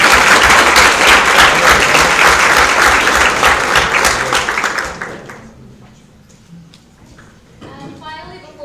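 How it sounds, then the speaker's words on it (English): Loud, sustained audience applause at a university computing club's project presentation night, a dense wash of clapping filling the first five seconds before fading into scattered claps and room noise, with a voice starting to speak near the end. "let's give a big round of applause to our industry mentors"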